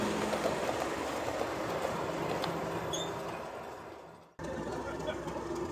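Diesel locomotive 37250 running round its train at Kidderminster station, a steady rumbling railway drone with faint clicks and a brief dropout near the end, heard at moderate distance.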